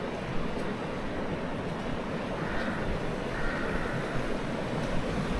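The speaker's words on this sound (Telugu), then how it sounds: "రివర్ కూడా ఫ్లో అవుతుంది." A river flowing past a small village in Gulmarg, Kashmir, makes a steady, full rushing wash that stays even throughout, with no voices.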